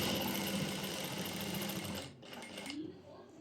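Close, rapid mechanical whirring of a sewing machine stitching palazzo pants, running steadily then slowing and stopping briefly before restarting, with someone talking over it.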